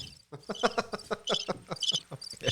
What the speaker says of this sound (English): The crickets are louder for you.